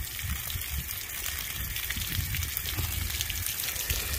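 Water gushing and trickling steadily out of an RV plumbing system as it drains during winterizing, a continuous close rushing flow with no talking.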